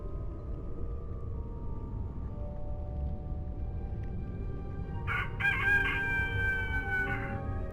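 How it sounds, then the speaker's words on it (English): A rooster crows once, loud and drawn out, in the point-and-click adventure game A Vampyre Story, rising over a low steady game ambience after several seconds of near-quiet. "The sun has risen and the rooster crows."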